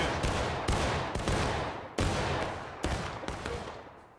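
Rifle fire from a firing line in War of Rights, loud irregular musket-like cracks, each trailing into a long fading echo.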